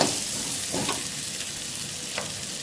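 Sweet potato fries in oil for pulusu, a loud, close, steady sizzle with a few brief stirring scrapes and no speech.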